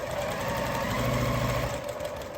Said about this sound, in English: now I'm just going to sew the last seam on this 9 patch